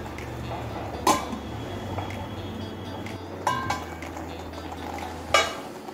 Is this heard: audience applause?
no